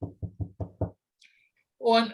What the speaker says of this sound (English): a light rap sounded on the door